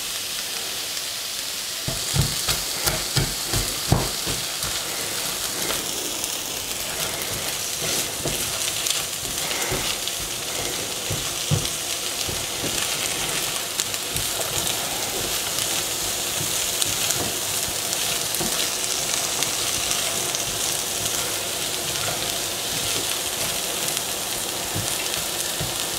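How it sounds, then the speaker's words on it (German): Vegetables sizzling and frying in oil in a pot for a sweet potato lentil soup, a steady crackling hiss with occasional stirring clatter and spatters, close and alone without talk. "es ist jetzt schön angebraten"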